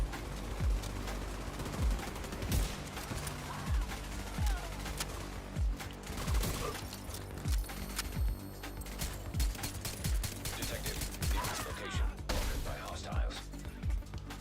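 Rapid bursts of gunfire crackle through a firefight in The Division 2, with repeated sharp shots and volleys spread across the scene, some near and punchy, others lighter, with talk intermittently layered over the action.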